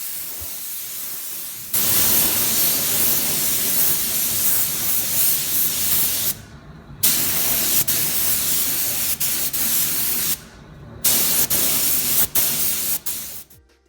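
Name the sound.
spraying clear coat onto a car headlight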